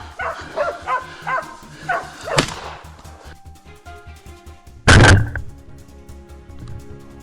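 Several quick hunting dog barks in a row during a wild boar hunt, then a sharp loud crack like a gunshot, followed by quieter rustling.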